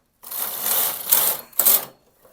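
A sock knitting machine with jacquard activated runs briefly, a close whirring mechanical clatter in two short passes with a brief pause between.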